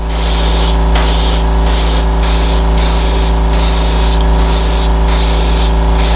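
An airbrush sprays paint while a California Air Tools air compressor powers it, giving a loud, steady hiss over a constant low motor hum, broken by brief regular dips in the airflow.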